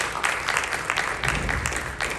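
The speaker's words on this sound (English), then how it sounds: "Can we get a round of applause, please, for the candidates?" An audience at a town election Q&A applauds the Board of Selectmen candidates, a steady, fairly loud burst of clapping from many people throughout.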